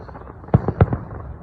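Fireworks bursting at a Canada Day display: two fairly close, muffled booms about a quarter second apart, each followed by a softer echoing crackle over a steady outdoor rumble.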